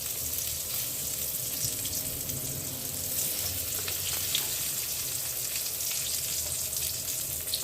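Slices of eggplant fry in hot oil in a pan in a home kitchen, giving a steady close-up sizzle and crackle that runs continuously without talk.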